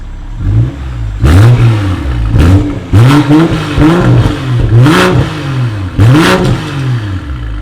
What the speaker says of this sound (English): You just heard that exhaust.